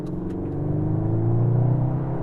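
A Yaris driven at full throttle, its engine note climbing steadily in pitch as the car pulls hard, loud and close throughout with no talk.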